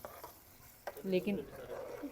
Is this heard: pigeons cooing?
no